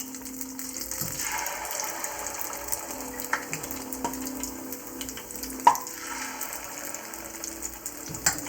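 Akara bean fritter batter frying in hot oil, a steady soft sizzle with occasional sharper pops, fairly close and continuous with no talking.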